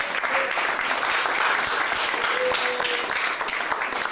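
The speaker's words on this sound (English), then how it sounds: "how about giving them a big round of applause?" Audience at a comedy show bursts into a full round of applause, dense steady clapping with a few faint voices mixed in, sustained throughout.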